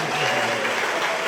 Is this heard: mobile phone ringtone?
no